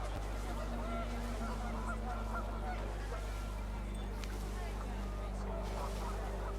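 Panicked geese honking in What Remains of Edith Finch, a steady stream of honks over a constant low rumble of wind, with voices talking along over it.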